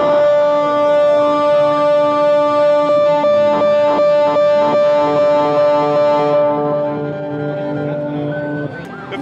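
A Moog Sub 37 synthesizer with its mixer fed back into itself, giving a loud, sustained, distorted drone with wavering unstable harmonics that thins and shifts near the end.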